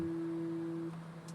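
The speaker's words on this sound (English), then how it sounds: "It's giving me a gear sound warning there." A faint, steady landing gear warning tone sounds in Microsoft Flight Simulator 2024 from a Piaggio P180 Avanti, holding one pitch for about a second before cutting off, leaving a low hum.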